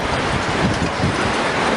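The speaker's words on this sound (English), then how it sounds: "The 36-foot waves were relentless" Huge 36-foot tsunami waves crash relentlessly in a Godzilla film, a loud, dense, continuous roar of rushing water filling the whole moment without pause.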